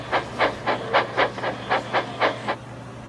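A steam train chuffs rhythmically, about nine steady puffs of hissing steam in a row at a moderate distance, then the chugging stops.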